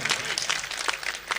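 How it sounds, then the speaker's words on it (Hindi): Audience applause at an all-India mushaira poetry gathering, a sustained burst of many hands clapping steadily and fairly loud, with a faint voice mixed in. "अल्ताफ भाई जरा तालियां बजाइए एक बार भाई"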